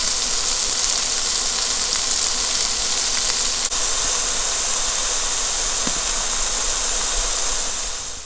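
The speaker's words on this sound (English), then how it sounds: "got our pan on here now, so let's just do it in like little batches so they can actually sizzle off" Beef pieces browning in small batches in a hot frying pan make a loud, steady sizzle and hiss close up, with one brief sharp crackle midway and no voices.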